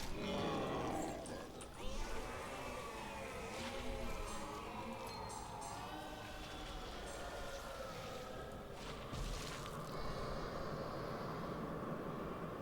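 Cows mooing in the Diablo 2 video game, low drawn-out bellows amid a dense wash of game effects and background noise, fairly faint overall.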